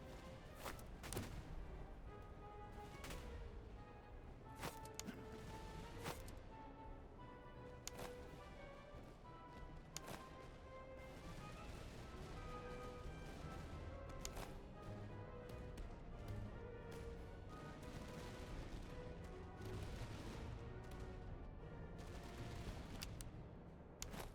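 Massed musket volleys and gunfire from the battle game Master of Command sound in faint, continuous crackling bursts with sharp, irregular shots layered over a steady rumble.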